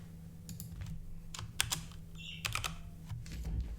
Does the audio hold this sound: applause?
no